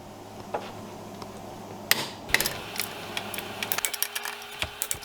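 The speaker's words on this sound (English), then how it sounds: "Using the 19mm socket, torque the lug nuts to 100 foot-pounds." A 19mm socket wrench tightening lug nuts on a 2006 Chevy HHR during a front brake job, a series of quick ratcheting clicks growing more rapid toward the end, close and fairly loud with no speech.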